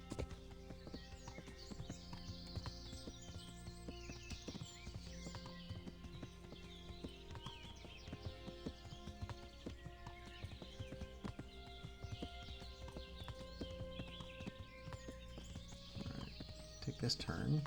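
Horse hooves clip-clopping along a path in the video game Kingdom Come: Deliverance, a steady rhythmic trot that runs throughout, mid-level, with a person talking over it.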